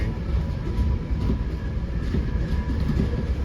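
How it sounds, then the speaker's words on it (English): Rumble of a train rolling along the rails as it comes in to stop at a station, a steady loud low drone with faint clatter and a thin high whine throughout, no voices. "we're going to stop again and we're going to get off the train."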